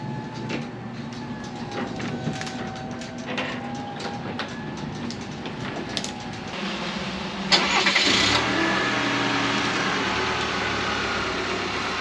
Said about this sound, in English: That was a startup just because I thought I'd do it from the outside this time instead of the inside